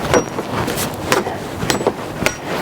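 A big sledgehammer drives metal stakes into the soil of a raised garden bed, giving a series of sharp, irregular knocks and clanks up close.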